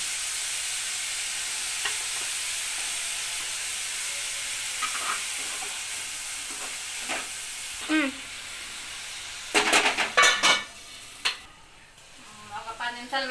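Onion, green chilli and curry leaves fry in two spoons of oil for a chicken curry, giving a steady hissing sizzle that softens as sharper stirring scrapes and a brief voice come in toward the end.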